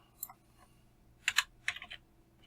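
Code being typed on a computer keyboard at close range, with a few isolated key clicks followed by two quick clusters of sharp keystrokes in a quiet room, no speech.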